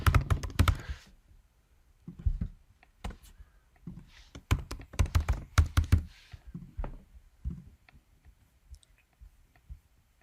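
Typing a username on a computer keyboard, in crisp, close clicks and clattering bursts, loud and uneven, separated by brief pauses, with no voices.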